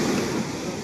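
Big ocean waves breaking where fishing boats are pulled ashore, a steady close wash of surf and wind across a very short moment.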